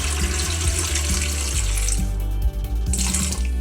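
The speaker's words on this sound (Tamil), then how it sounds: "ஸோ இதில் இந்த பாதி அளவுக்கு நம்ம தண்ணி ஊற்றிக்கலாம்." Water pours steadily into an idli cooker base at close range, a continuous splashing gush from a tap or vessel with slight dips in flow near the end, no voices over it.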